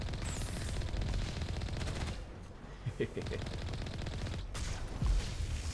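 Rapid bursts of gunfire strike the player in Mass Effect Legendary Edition, dense machine-gun rattle with a few heavier thuds and brief lulls, loud and constant across the scene.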